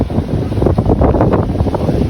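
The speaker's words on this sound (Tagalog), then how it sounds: "Ayan ang hangin o." Strong wind by a river roars and buffets the microphone in a loud, steady rumble, with no voices.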